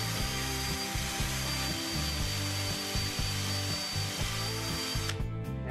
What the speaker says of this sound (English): I was able to sand that down pretty good, get that powder coating off of there.